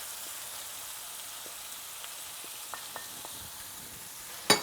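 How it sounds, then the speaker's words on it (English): Mushrooms frying in a pan with oil and garlic, a steady soft sizzle throughout with a few faint ticks and one sharp scrape at the end, close and quiet with no talk. "now we're gonna go ahead and scrape these mushrooms into here"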